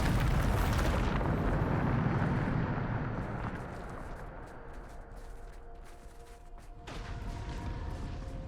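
A Bombardo blasting spell in Hogwarts Legacy goes off as a loud, rumbling explosion that slowly decays into crackling debris, followed by a second, softer burst.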